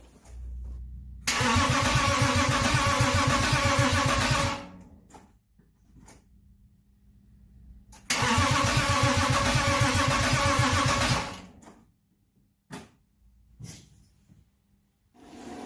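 A freshly rebuilt BMW M52 engine in a car parked on a slope cranks and fires in two long loud bursts of about three seconds each, with quiet pauses and faint clicks between attempts.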